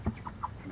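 Chickens inside a chicken tractor give a brief, soft burst of clucking close by.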